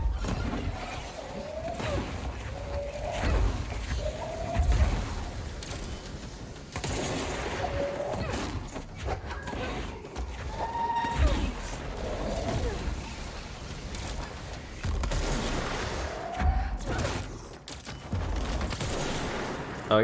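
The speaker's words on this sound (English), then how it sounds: "I guess you started shooting me." Video game gunfire in scattered bursts and single shots, fairly faint, heard beneath ongoing talk with other game effects.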